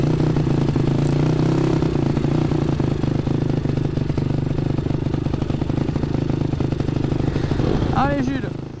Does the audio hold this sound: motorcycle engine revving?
yes